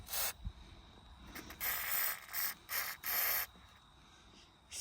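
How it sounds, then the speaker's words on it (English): WD-40 is sprayed liberally onto a Jeep door hinge in several short hissing bursts, close and fairly quiet, separated by brief pauses. "spray it pretty liberally."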